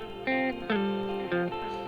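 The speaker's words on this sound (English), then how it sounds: "The guitars all together sound like this at this point." Several electric guitars play chords together, shifting every half second or so, washed in reverb with a bright, layered sustain.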